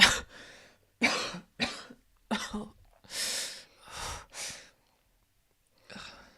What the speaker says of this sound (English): I think that she like coughs